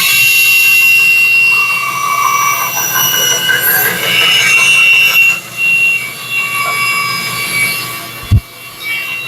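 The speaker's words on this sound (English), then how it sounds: "We're just going to round these corners off here on the bandsaw." A bandsaw rounds off the corners of a wooden piece, a loud close whine with shifting squeal as the blade bites, easing briefly between passes and ending with a knock.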